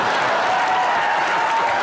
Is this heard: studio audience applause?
yes